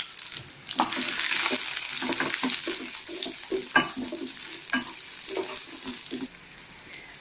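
Onions sizzle in hot oil with mustard seeds and curry leaves, a dense crackling fry heard up close with light stirring taps and scrapes scattered through it, and no one speaking.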